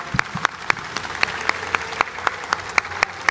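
Applause for the author at a book presentation, a sparse, rhythmic patter of a few people clapping in a room, distinct individual claps repeating evenly and fairly softly for a few seconds.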